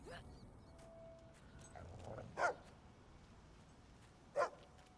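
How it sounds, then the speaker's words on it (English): Two short, sharp dog barks a couple of seconds apart over a faint background hum, somewhat distant, from a dog in the video game Fable II. "What are you barking at?"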